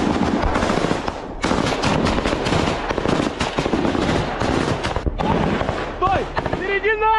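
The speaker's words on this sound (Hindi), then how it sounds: "खार्किव की ओर बढ़ रहे रूसी सैनिकों पर फायरिंग।" Rapid gunfire aimed at Russian soldiers advancing toward Kharkiv, loud bursts running almost the whole time under excited shouting voices, with a short break near the end.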